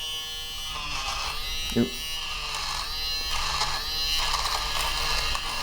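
A Walmart electric fabric shaver runs across pilled fabric with a steady close buzz, its pitch shifting slightly as it moves, and a brief louder bump partway through; a voice makes a short exclamation.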